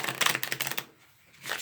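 A deck of playing cards is riffle shuffled by hand: a quick, crisp burst of fluttering card clicks, close and dry, a pause, then a short further rustle of cards.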